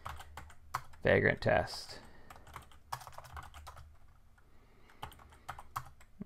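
Commands are typed on a computer keyboard while setting up Vagrant for WordPress, quick irregular key clicks up close and fairly soft, with a person speaking over part of the typing.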